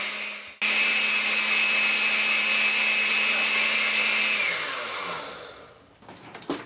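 A modest kitchen mixer purees tomatoes into a slurry for ketchup: a loud, steady high whine runs for about four seconds, then the motor winds down and stops.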